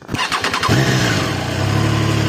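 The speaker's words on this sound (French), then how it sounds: "On va la démarrer." Triumph Trident 660 three-cylinder motorcycle cranked by the starter in a short burst of chatter, then catching and settling into a steady, close idle.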